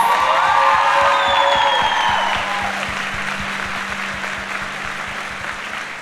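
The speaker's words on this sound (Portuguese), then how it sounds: "uma salva de palmas para elas" Church audience breaks into loud applause with cheers and whoops, dense clapping that fades gradually over several seconds, with scattered shouting voices over it.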